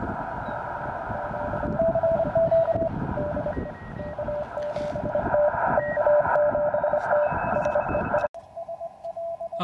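A steady high Morse code sidetone keys on and off in rapid dots and dashes from a 5-watt field radio, over loud radio hiss and outdoor wind noise, continuing almost throughout.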